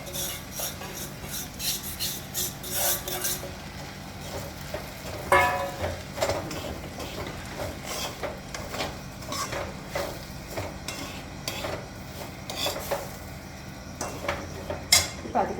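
Roasted semolina stirred into boiling water in a cooking pot, continuous scraping and rubbing of a spoon against metal with clinks and soft bubbling, close and moderately quiet, no talk.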